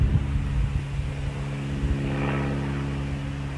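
A stationary airplane's engine drones steadily, a continuous low hum with tonal bands that sounds as if the aircraft were moving, holding fairly even in level throughout with no talk over it.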